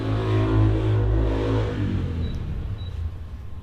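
A car passes on a road close by in Ngong, near Nairobi, Kenya, its loud engine rumble swelling and then fading away over a few seconds.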